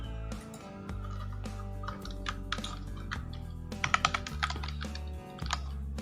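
Keys tapped on a computer keyboard while entering a job designation into a visiting card design, a quick irregular run of clicks over a steady low background hum.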